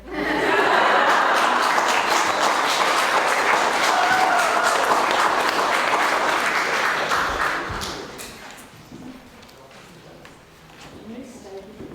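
An audience applauding for Kara, a dense, loud burst of clapping with some laughter that holds steady for several seconds, then fades into scattered claps and quiet talk.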